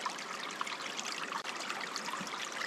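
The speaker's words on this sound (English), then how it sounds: "Listening to the sound of the flowing water." Spring water flowing out of the ground in a quiet forest, a steady close broadband rush and trickle without pause and with no voices.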